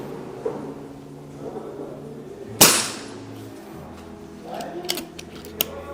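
An FX Dreamline air rifle fires a JSB Exact pellet: a single sharp crack partway through, surrounded by faint mechanical clicks and handling noise at close range.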